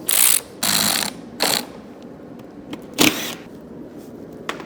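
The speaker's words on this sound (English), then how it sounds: "I'm going to set to this with nut gun" A nut gun removing parts from a small high-torque car build, rattling out several short bursts of one to two parts of a second, separated by pauses and light clicks, close up with no voices.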